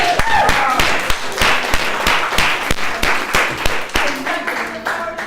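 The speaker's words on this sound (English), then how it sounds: "Round of applause for that" Workshop audience at a Toastmasters memory techniques session gives a round of applause, with sharp, separate claps from a smallish group, rhythmic and fairly close, and some voices underneath.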